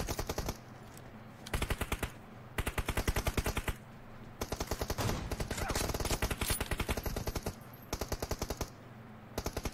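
Gunfire in a multiplayer shooter video game, 2v2 team deathmatch: loud rapid automatic bursts repeat in rhythmic volleys separated by short pauses, with one longer continuous stretch mid-way, and no talking over it.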